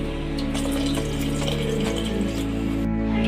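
Water poured into tamarind curry for a Telugu bomedala pulusu, a steady continuous splashing pour, close and fairly loud, running unbroken for several seconds with no talk.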